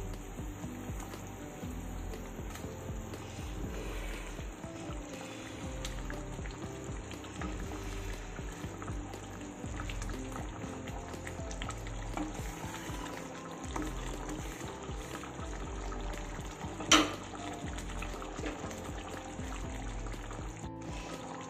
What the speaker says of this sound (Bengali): এবার দেখো মাছের ঝোলটা ফুটে উঠেছে।